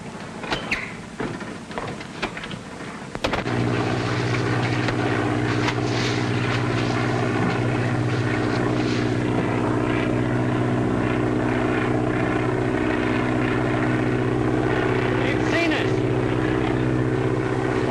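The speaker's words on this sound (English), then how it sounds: "Is a plane coming?" A 1939-era propeller airplane flies overhead with a loud, sustained engine drone that starts abruptly after a few seconds of scattered noises and holds steady to the end, with voices heard beneath it.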